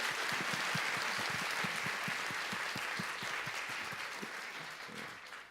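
A church congregation at a New Year worship service applauds the interpreter, a steady wash of many hands clapping that holds evenly throughout and tapers slightly near the end.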